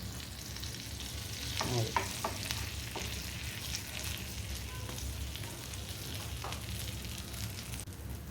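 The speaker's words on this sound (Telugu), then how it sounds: "అవి కాలుతాయి బాగా. మళ్ళీ అడుగున కొంచెం బటర్ వేసి" Bread toast with sesame seeds sizzling in butter in a pan, a steady close frying hiss with occasional scraping and stirring clicks and a brief spoken word.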